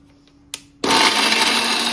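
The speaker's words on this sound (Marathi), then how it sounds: "आता मिक्सरला लावून घेऊ आपण" A mixer grinder kicks on after a couple of quiet clicks and roars loudly and steadily, grinding roasted dry coconut and coriander into a paste.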